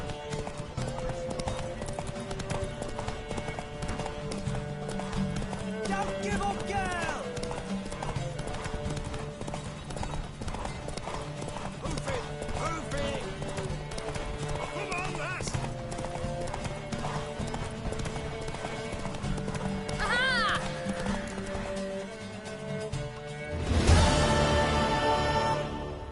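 A horse in a PS4 video game gallops with steady, rhythmic hoofbeats under layered game music, with a few whinnies breaking through and a loud rushing burst near the end.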